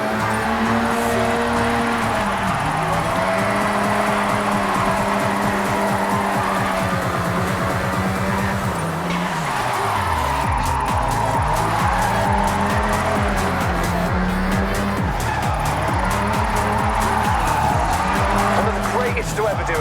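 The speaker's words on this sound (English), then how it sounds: "If you don't drift with style, it's just skidding" A car drifts in the Forza Horizon racing game, its engine revving up and down in wavering sweeps while tires squeal and skid almost continuously, loud and close, with a voice talking over it.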